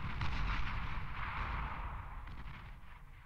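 Fat Boy artillery in the strategy game Beyond All Reason fires a rolling barrage of dull distant booms. The thuds blur into a continuous rumble that slowly fades.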